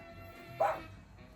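A single short dog bark goes off indoors in a quiet room, fairly close and brief, with low background hum before and after.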